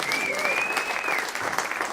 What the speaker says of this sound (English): Let's give God a hand clap of praise in this house.